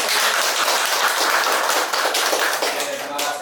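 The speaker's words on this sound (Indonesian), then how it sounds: "Boleh tepuk tangan?" Audience applause fills a training simulation on preventing human trafficking, a dense, steady wash of many hands clapping at close range with a few voices mixed in, holding strong for the whole stretch.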